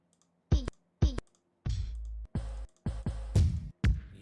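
Mouse clicks in music production software, sharp isolated clicks followed by a run of quicker clicks and drags, close and dry with silence between.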